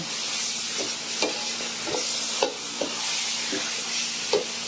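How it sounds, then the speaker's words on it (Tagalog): Chicken pastel with celery sautéing in a pan, a steady close hiss of frying broken by several sharp spatula scrapes and taps spaced about half a second apart, with no talking. "Gisa natin na maayos"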